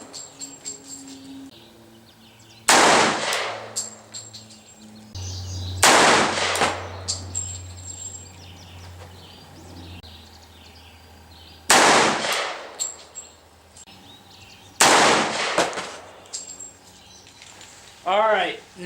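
Pistol shots from cast lead bullets loaded with 6.0 grains of Power Pistol powder ring out outdoors as four loud, sharp reports spaced a few seconds apart, each with a decaying tail, amid quiet background and birdsong.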